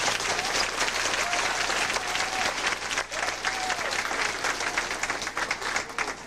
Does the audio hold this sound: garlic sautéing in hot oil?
no